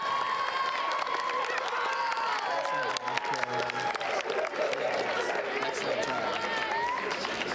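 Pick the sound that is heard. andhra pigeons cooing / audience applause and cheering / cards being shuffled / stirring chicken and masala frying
audience applause and cheering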